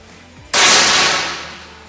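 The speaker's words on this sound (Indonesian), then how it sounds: "Oke, tembakan yang keenam" One sharp, loud discharge from an SR air rifle after a half-second of quiet room tone, followed by a broad, slowly decaying ring that lasts over a second.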